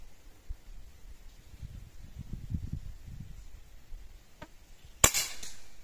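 A single sharp, snappy shot from a Hatsan Flash PCP air rifle at a beer can 60 metres away cracks out near the end after a few seconds of low rumbling background, followed by a brief fading tail.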